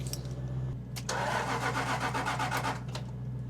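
A Jaguar XK8 with many faults cranks briefly, then catches. The engine settles into a steady, close-miked idle hum with a throaty exhaust note.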